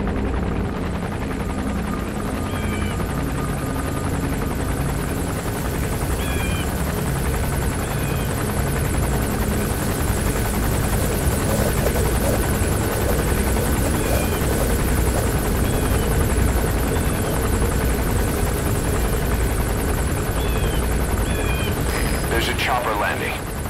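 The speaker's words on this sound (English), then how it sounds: "A chopper will be arriving any minute." Helicopter gunship hovering near an airport in Metal Gear Solid V, a loud continuous rotor thrum and engine whine throughout, with faint electronic game tones and occasional talk.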